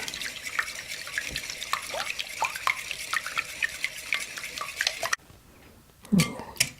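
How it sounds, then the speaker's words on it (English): Eggs whisked together in a bowl for a loaded breakfast bundt bake, a quick steady run of light clicking and tapping from the whisk against the bowl that stops abruptly, then a few louder knocks. "So first of all, we will whisk the eggs together."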